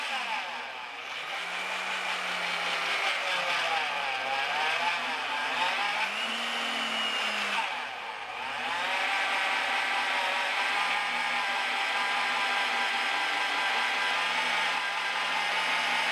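A Vevor 1400W magnetic drill's motor runs loud and continuous in a steady whine. The pitch sags and recovers under load, dips briefly midway as if nearly stalling, then holds steady to the end.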